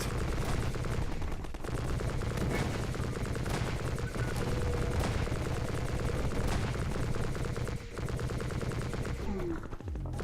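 Steady bursts of video game gunfire fill the scene, with repeated sharp shots layered over a dense, constant battle din of engines and distant explosions, loud throughout.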